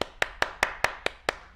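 Seven sharp, evenly spaced hand claps ring out clearly, with no talk over them.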